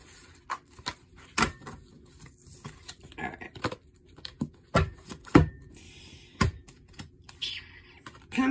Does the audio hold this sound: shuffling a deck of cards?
yes